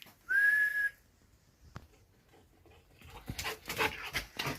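A person gives one sustained, steady whistle to call a dog, loud and near, followed after a pause by rustling movement and soft animal sounds.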